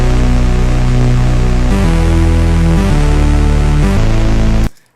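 Thick, buzzing chorus bass synth from an Ableton remake of a song, sustained loud and dense with a few note changes before it cuts off abruptly near the end.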